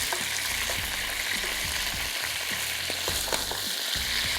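Chicken pieces fry in a pan for Moroccan chicken with roasted red pepper sauce, a steady close sizzle broken by occasional stirring scrapes, with no talking.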